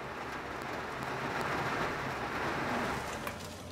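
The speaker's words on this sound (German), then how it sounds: "Immer wieder unterbrechen Regengüsse die Arbeit." A heavy rain shower pours down outdoors in a rural farming area, a dense steady hiss of falling water with no voices, holding loud and constant throughout.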